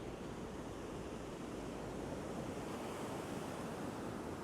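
Sloppy surf breaking on a fishing beach under onshore wind makes a steady, dense wash of noise with no distinct individual wave crashes, heard without any voices.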